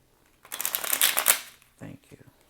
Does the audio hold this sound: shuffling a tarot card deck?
yes